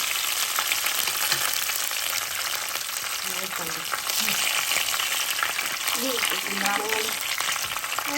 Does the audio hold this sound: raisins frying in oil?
yes